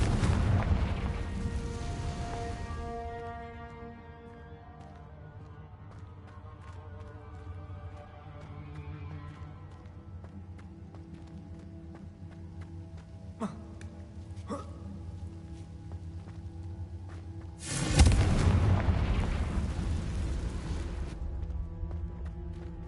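Confringo blast spells in the Hogwarts Legacy video game, with a heavy booming burst at the start, a few sharp cracks mid-clip, and a second loud explosive burst near the end over a low rumbling game score.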